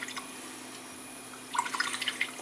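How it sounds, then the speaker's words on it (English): A sable paintbrush, size 4, rinsed in water to clear gum from its bristles: quiet at first, then a short burst of small splashes and drips near the end. "just rinse it out to get the gum off the bristles"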